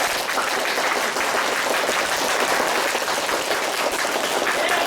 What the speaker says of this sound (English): If you think she did not confess, on the count of 3, clap your hands.